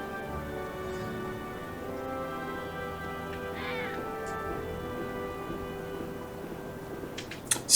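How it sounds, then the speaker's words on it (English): A cat meows in Final Fantasy VII Remake, a soft, brief call rising from the steady background hum and music of the game, fairly faint and distant, with no talk. "Almost ran over that cat."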